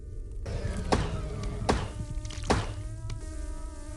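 Bees drone with a steady buzzing hum in the video game Yeeps 2.0 boss dungeon, punctuated by several sharp thwacks at an even pace, like hits landing in a game.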